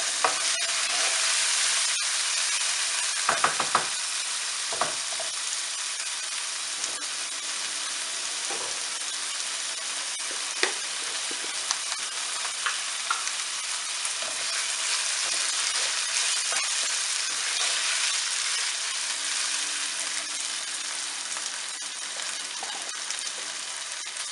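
Rice and vermicelli toasting in a pan for pilaf, a steady bright sizzle with a spoon stirring and scraping now and then, close and continuous throughout.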